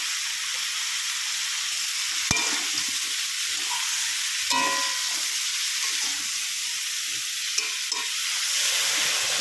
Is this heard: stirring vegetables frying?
yes